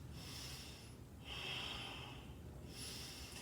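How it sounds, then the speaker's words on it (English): Forceful breaths pushed through the nose during a yoga extended side angle pose, a few strong rushing exhales with short pauses between, close and clear. "5 powerful breaths through the nose."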